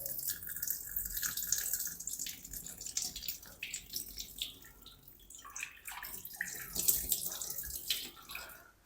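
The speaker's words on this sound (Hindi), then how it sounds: "ये पानी हम पहले निकाल देंगे सारा" Water splashes and trickles as it is poured out of a bowl of rinsed pumpkin, a fairly close, uneven gush with gurgles and drips, fairly quiet overall.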